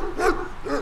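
A Malaklı dog on a farm gives two short, close barks about half a second apart, loud and clear with no talking.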